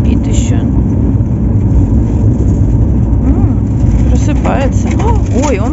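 A car on the drive home with a dog aboard, heard from inside as a steady, loud road and engine rumble throughout, with brief whining, voice-like sounds rising over it near the end.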